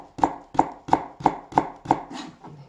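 A kitchen knife thinly slices vegetables into julienne strips on a cutting board, six crisp, evenly spaced chops in a steady rhythm, close and clear with no talking.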